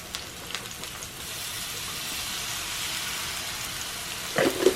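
Quarter of an onion and about three tablespoons of minced garlic sizzle steadily in a pan, a soft continuous frying hiss with a brief clatter of stirring near the end.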